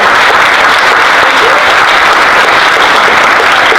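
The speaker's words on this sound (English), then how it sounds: "if you guys can give a round of applause for this venue, HRC, for putting this on." An audience applauds a venue at a Human Rights Campaign film Q&A, with loud, steady clapping filling the whole stretch with no break.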